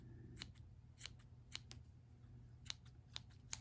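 Scissors snip yarn on a crocheted bunny: several crisp, close cuts spaced irregularly, each a short sharp click over a quiet low hum.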